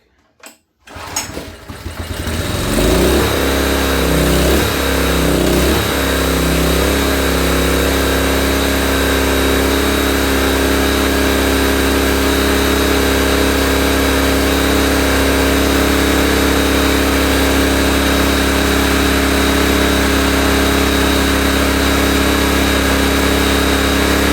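A Honda EB1400X generator with power issues and a recently serviced carburetor cranks, catches and then runs steadily and loudly at a constant drone, close up, for over twenty seconds.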